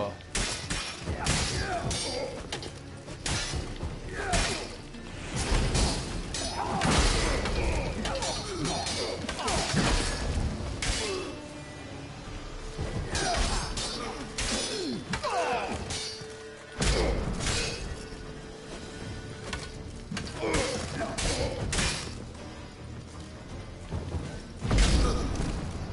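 Explosions and violent crashes in an action video game during combat, loud bursts and impacts recurring throughout amid dense game noise, with speech at times.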